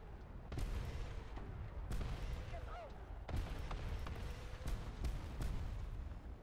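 Tank cannon fire in the War Thunder game, sharp booming shots repeating at irregular intervals over a dense, steady battle rumble, with talk in the background.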